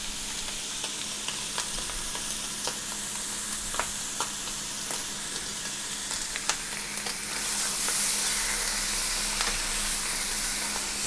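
Bacon frying in a pan for a sandwich, sizzling steadily with scattered crackles and pops, growing slightly louder toward the end, no voices.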